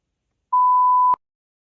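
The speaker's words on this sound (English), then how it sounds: "it just kept beeping at me" A single steady electronic beep from an old Apple Mac failing to boot with faulty RAM holds for about half a second, then cuts off abruptly, alone in silence.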